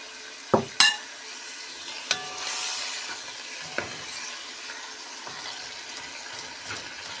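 Onion and mutton fry in a pot for Uzbek dimlama, a soft continuous sizzle broken by a couple of sharp utensil knocks at the start and lighter scrapes of stirring.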